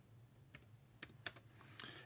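Someone types on a computer keyboard in a quiet room, a few soft, scattered key clicks over low background hum.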